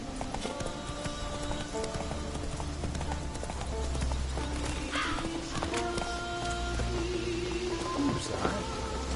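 Horse hooves clip-clop steadily on a path in the rain in The Witcher 3, a continuous rhythmic trot over a soft patter of rainfall and ambient game sounds.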